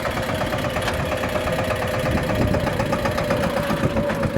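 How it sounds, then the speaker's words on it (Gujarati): A steady, rumbling tractor engine idles close by, its even mechanical throb holding constant with no breaks or revving throughout. "આ ભાઈ ટ્રેક્ટર રાખે"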